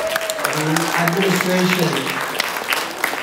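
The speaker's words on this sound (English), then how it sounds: "I appreciate you all applauding" Concert audience at a school spring event applauds steadily, many hands clapping in a continuous patter, while a speaker's voice talks over the clapping in the first half.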